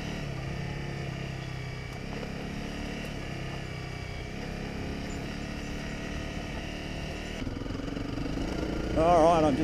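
A Honda CRF250 Rally motorcycle cruises in second gear along sand tracks, its engine a steady mid-pitched drone under wind noise, with a rider's voice briefly heard.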